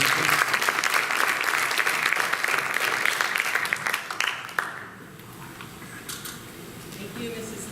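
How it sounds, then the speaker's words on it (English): Applause for three students at a board of education meeting, a room of people clapping briskly for several seconds before it tapers off into quieter room noise and a few stray claps. "One more round of applause for these 3 ladies."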